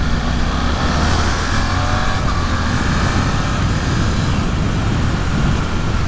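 A Suzuki GSX-8S middleweight motorcycle being ridden, its engine a steady, loud drone mixed with heavy wind rush, continuous and unbroken with no talk.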